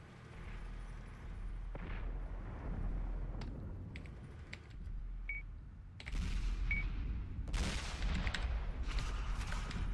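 Tank gunfire in a tank video game: scattered booming shots and blasts rise over a low rumbling battle backdrop, heavier toward the end, with no voices.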